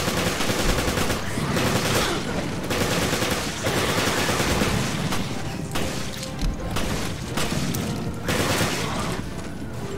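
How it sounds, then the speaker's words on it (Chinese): A P90 submachine gun firing in Resident Evil: Revelations on Switch, sustained rapid automatic bursts roaring close and loud for the whole stretch with only brief breaks. "这把枪是 P90 冲锋枪"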